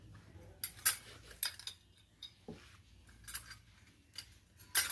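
Clutch plates are fitted into a Hero Achiever motorcycle, with quiet metallic clinks, ticks and scrapes of parts being set in place, spaced irregularly over near silence.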